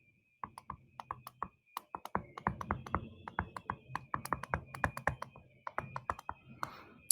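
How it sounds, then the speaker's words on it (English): Quick, light key taps punch an expression into a calculator in an irregular run of clicks at close range, with a faint steady tone underneath and no talking. "I type it all in my calculator, just like I wrote it"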